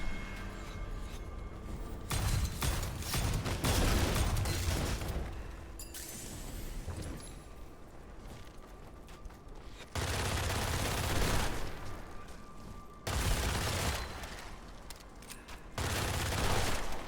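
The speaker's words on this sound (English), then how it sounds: "So this gun is a revolver that every time you reload, the bullets that you fired will explode." Fired revolver bullets detonating on reload in a video game: repeated clusters of sharp explosive bursts and crackling gunfire, arriving in loud waves separated by brief quieter gaps.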